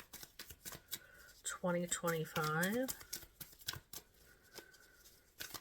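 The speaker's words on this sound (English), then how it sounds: "Shuffling for March 2025." Tarot cards being shuffled, brisk papery riffles and taps close by, with a person speaking over the middle of the shuffling.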